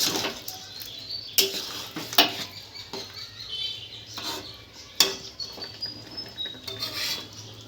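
Metal spoon scrapes and clinks against a pan while chicken curry with shahi garam masala is stirred, sharp close clanks at irregular intervals over a low background hiss, no talking.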